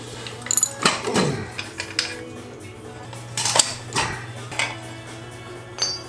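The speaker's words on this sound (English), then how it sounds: "22mm wrench." A 22mm wrench working the exhaust bolts of a Harley Sportster, with sharp metallic clinks and ratcheting taps in an irregular rhythm, close and alone.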